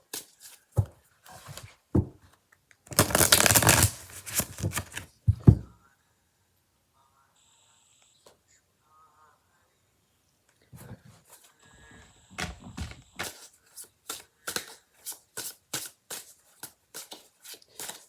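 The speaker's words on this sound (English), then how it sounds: "I think I'm just going to shuffle for each one" Deck of cards shuffled in two bursts, a dense riffling flurry followed after a quiet gap by a longer run of sharp clicks and snaps, close and fairly loud with no talking.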